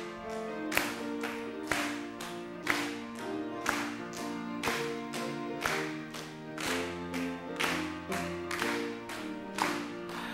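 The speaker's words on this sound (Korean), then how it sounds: "박수 치면서 합시다." A church congregation claps in steady rhythm along to a hymn, regular sharp claps roughly every second over organ or keyboard accompaniment and singing.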